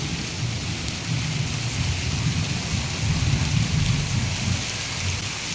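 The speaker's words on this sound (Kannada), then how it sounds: "ಆನಿಕಲ್ ಸಹಿತ ಮಳೆ." Heavy hailstorm with rain in Vijayapura district, North Karnataka, a dense steady roar of falling hail and rain hammering surfaces nearby, continuous and fairly loud throughout with no talking.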